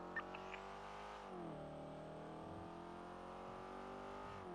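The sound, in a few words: car engine from video game GTA V roleplay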